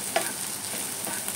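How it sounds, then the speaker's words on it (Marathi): Onions browning in a pan for dry mutton liver masala, with a steady close sizzle broken by a few light clicks of stirring and no voices. "तर आता आपला कांदा फ्राय असा थोडासा हलकासा ब्राउनिश झालेला आहे"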